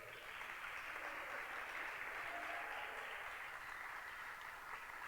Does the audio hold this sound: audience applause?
yes